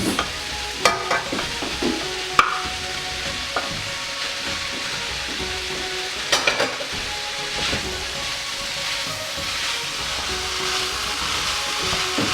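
Rice and other ingredients are stirred together in a hot pan, giving a steady close sizzle with scraping strokes and a few sharp clanks of the utensil against the pan near the start and around the middle.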